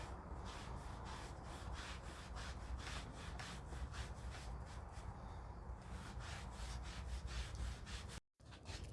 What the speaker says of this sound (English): Go up with the edge first, to the top edge, go down, and then just start wiping with the grain.